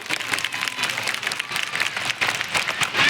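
Steady, dense applause from a crowd, loud and continuous throughout.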